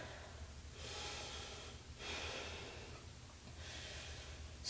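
Deep breathing during a wide-legged yoga forward fold: three long, breathy exhales, each lasting about a second and separated by short gaps, close and clear.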